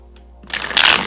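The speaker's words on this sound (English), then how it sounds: "That is a podunk shuffle if I've ever seen one" A tarot card deck is shuffled once in a quick, crisp riffle lasting about half a second, close and fairly loud after a brief quiet moment.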